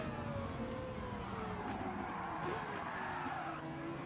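A racing car engine in a video game drift race roars steadily while tires squeal through a long skid, the pitch sliding as it drifts.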